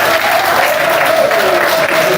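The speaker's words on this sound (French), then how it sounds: "donc on s'applaudit encore très fort" Guests at a civil wedding ceremony in Grand Lahou, Côte d'Ivoire, applaud loudly and continuously throughout, with a faint sustained tone running over the clapping.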